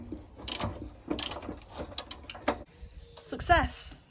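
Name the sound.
ratchet removing rusty bolts from a 23-year-old car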